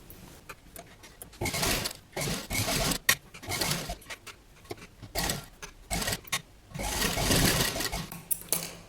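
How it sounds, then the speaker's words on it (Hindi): Domestic sewing machine stitching folded fabric onto canvas for a collar neckline, running in several bursts of rapid mechanical whirring separated by brief pauses. "अब हम इस कपड़े को इस कैनवास के ऊपर ऐसे फोल्ड करते हुए सिलाई लगा लेंगे"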